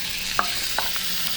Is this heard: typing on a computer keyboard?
no